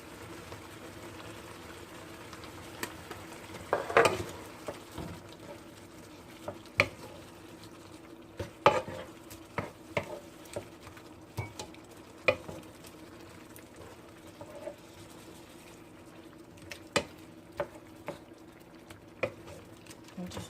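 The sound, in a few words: chicken gizzards simmering and being stirred in pan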